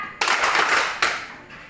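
Classroom of junior high students clapping their hands together twice in unison, two sharp loud bursts about a second apart, each ringing briefly before fading, with no talking.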